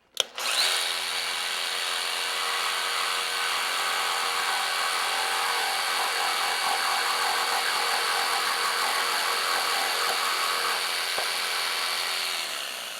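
A jigsaw cuts through wood paneling for wainscoting, starting abruptly and then buzzing in a steady, high, reciprocating whine for about twelve seconds before easing off, close and loud with no talking.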